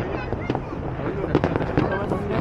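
Fireworks bursting outdoors, a string of sharp pops and cracks at irregular intervals layered over a continuous crowd murmur and people chatting nearby.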